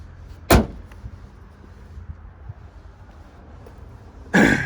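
Driver's door of a 2018 Ford Transit Custom Limited van, heard as one sharp close thunk early on, then a quiet stretch, and then a second loud door sound at the very end.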